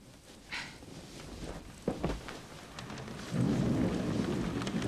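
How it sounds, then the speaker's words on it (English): A storm builds as a faint rumble and scattered thuds give way to heavy rain, which swells into a steady, dense downpour near the end. "Rain. Lots of it."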